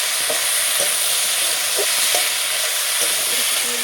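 Potatoes coated with turmeric and chili powder fry in a loud, constant sizzle, with a spatula scraping and turning them every second or so.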